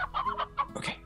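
Slime Rancher game chickens cluck several times in quick succession, nearby and fairly loud, finishing with a sharper squawking note.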